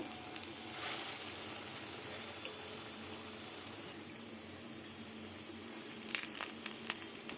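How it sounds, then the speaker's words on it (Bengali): Medium-sized masoor dal (red lentil) fritters, flattened slightly, frying in hot oil with a soft, steady sizzle, faint and continuous, with a few sharper crackles near the end. "এই যে তেলে দিয়ে দিলাম একদম বড়ও না একদম ছোটও না মাঝারি সাইজের বড়াগুলো করে নেব"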